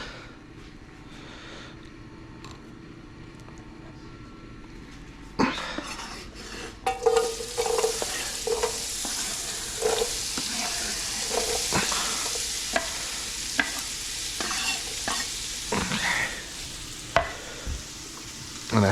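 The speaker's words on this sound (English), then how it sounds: "do a quick stir or two" Food frying in vegetable oil is stirred in a home kitchen, with a quiet start before steady sizzling sets in around five seconds, broken by repeated scraping and clattering stirs that run to the end.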